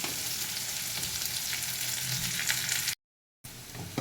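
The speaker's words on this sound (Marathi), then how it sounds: "तेल तापलेलं आहे त्याच्यामध्ये जिरे मोहरी घालत आहे त्याच्यानंतर ही मिरची घालते त्याच्यामध्ये कांदा घालते कढीपत्ता घालते" Cumin, mustard seeds, chili, onion and curry leaves fry in hot oil, a dense, loud, continuous sizzle and crackle that cuts out briefly before resuming.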